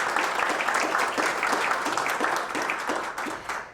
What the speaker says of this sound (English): let's give one more round of applause for our Women of ImpaCT finalists